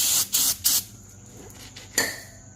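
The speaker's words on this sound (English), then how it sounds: "So I'll even spray some brake clean on there." Brake cleaner sprayed onto a drilled and slotted brake rotor during a 2020 Ford F-150 brake job: three quick close hissing bursts, then a pause and one more sharp spray burst.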